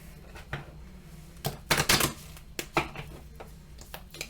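Tarot cards are shuffled in a series of crisp riffling bursts and taps, with a dense flurry in the middle, close and fairly quiet with no talk.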